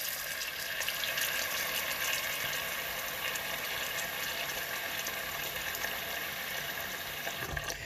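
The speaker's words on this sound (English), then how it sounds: "I'm going to use cold water. I'm just going to fill it up just a little bit above the noodles." Cold tap water runs steadily into a pot of noodles, a continuous close rushing stream that holds at an even level throughout with no talking.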